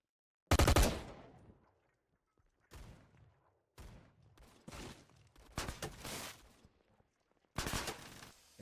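Bursts of rapid gunfire ring out during a video game shootout, with several separate volleys and short sharp cracks spread across a few seconds and brief silent gaps between them.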